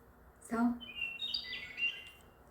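Computer-played birdsong sounds in a metaverse room: a sharp chirp followed by thin, high whistled tweets and trills, moderately quiet against low background noise.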